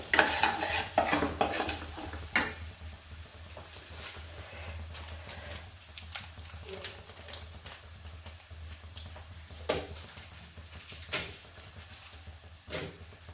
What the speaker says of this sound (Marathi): आता हे मिश्रण तेल परतूस्तोवर आपण व्यवस्थित मिक्स करून घेतोय